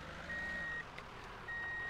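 A truck's reversing alarm sounds in the driving game Contract Ville, a steady electronic tone that runs for about half a second, pauses, then resumes, faint over a low engine rumble.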